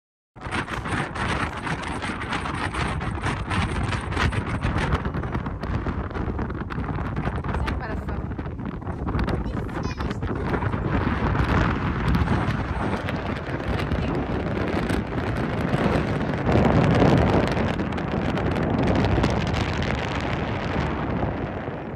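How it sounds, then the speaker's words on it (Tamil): Strong seaside wind at Point Calimere, a steady loud roar buffeting the microphone for the whole stretch, with gusts swelling and easing and little else standing out above it. "செம்ம காற்று, நல்லா இருந்தது."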